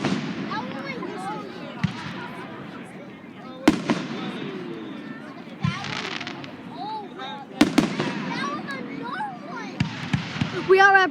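Fireworks bursting in a rapid-fire barrage, sharp booms and crackling strings of pops following one another over several seconds, with people exclaiming excitedly throughout.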